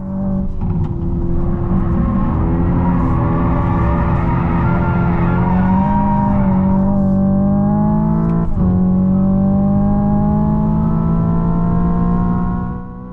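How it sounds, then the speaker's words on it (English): An electric Hyundai IONIQ 5 N drifts on a track, tyres squealing loud and close in a long sustained wail that shifts pitch through the slide, with no voices. "It's amazing the way it fully hooks up all four wheels and drifts, smoking all four tyres like a Ken Block rally car."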